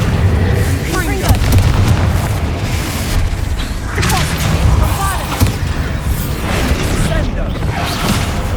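Spell explosions and combat effects in the video game Hogwarts Legacy: a continuous loud barrage of booms, blasts and whooshing bursts, with voices in the fight underneath.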